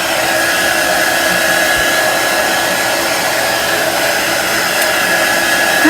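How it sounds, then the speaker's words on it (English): A hair dryer blows steadily on freshly painted layers of a tractor design on a pillow cover, a loud constant whooshing drone with a thin whine, running unbroken with no voices. "I'm gonna hit that with the dryer for a couple minutes"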